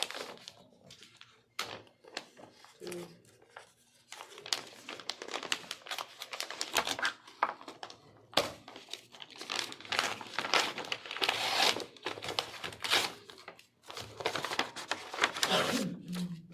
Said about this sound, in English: They sealed this envelope real well.